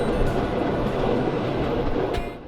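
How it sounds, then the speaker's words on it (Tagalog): A Swiss train runs with a steady, dense rumble and rushing noise, heard close and continuous before easing slightly at the end. "Nandiyan na yung tren."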